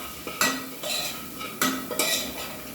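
A metal spoon scrapes and clinks against a pan while gram flour with coriander-cumin powder roasts in hot oil for a Gujarati cucumber sambharo, several distinct stirring strokes with a faint sizzle between them, close and clear.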